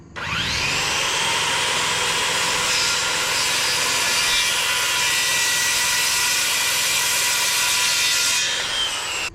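Power saw making a shallow half-inch cut into a fir rafter in a post and beam SIPs house, spinning up quickly into a loud, steady cutting whine for about eight seconds before winding down.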